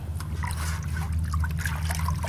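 Liquid trickles and sloshes close by as root developer is stirred into a container of water for coconut tree care, with soft splashes and dribbles over a low background hum.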